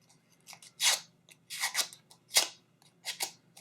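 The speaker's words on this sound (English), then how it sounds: "I want this to curl up just a little bit. So I'm just taking the back of my scissors." Paper scraps are drawn across the back of scissors to curl them, giving a series of crisp, crunchy scraping strokes in an irregular rhythm, close and fairly quiet, with no talking.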